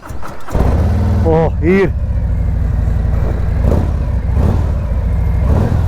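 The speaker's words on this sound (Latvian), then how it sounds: "Tā bišķu pagāzējot baigi forši motoriņš strādā." A 2026 Harley-Davidson Road Glide motorcycle engine starts with a sharp rise, then settles into a loud, rumbling idle with a few blips of revving, while someone speaks briefly over it.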